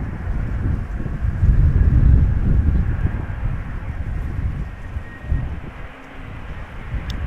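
A jet airliner descends toward the runway at Amsterdam Schiphol in a gusty crosswind, its steady low roar rumbling continuously under heavy wind buffeting on the microphone, swelling slightly and then easing.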